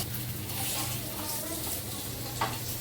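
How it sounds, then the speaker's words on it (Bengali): Koi fish fry in hot oil, giving a steady, close sizzle that hisses evenly for a few seconds without any speech. "এখানে কই মাছ ভাজা হচ্ছে"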